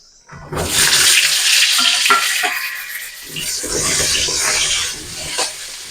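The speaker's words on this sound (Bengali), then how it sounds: "এবার আমি একই তেলের মধ্যে পটলগুলোকেও ভেজে নেব।" Pointed gourds frying in oil in a pan, with a loud, steady sizzle and crackle running nearly the whole time after a quiet start, plus brief stirring knocks.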